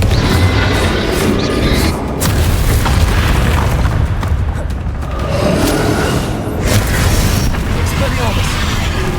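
Bombarda and Confringo spell explosions in Hogwarts Legacy pound out in a loud, continuous series of deep booms and crashing bursts, while a voice talks over the combat throughout.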